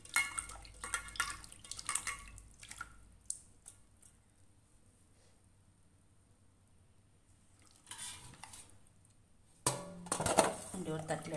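Potato pieces are swished around in water with clinking against a bowl, in bursts at the start and end, with a quiet stretch between.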